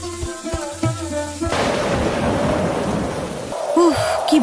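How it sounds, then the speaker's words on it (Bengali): Heavy rain pours steadily through a thunderstorm, with dense, loud rainfall and deep rumbling thunder rolling underneath, opened by a brief musical passage. "উফ, কি ভয়ঙ্কর ঝড়!"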